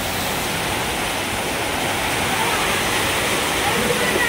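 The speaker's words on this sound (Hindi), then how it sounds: "बहुत तेज बारिश है" Heavy rain pouring at night in Raipur, a dense, steady hiss that stays loud and unbroken throughout with no voices over it.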